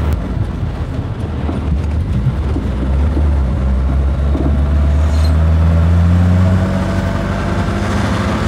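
Inside a Peugeot on a test drive, the engine drones low and loud with steady road rumble, rising in pitch as it accelerates.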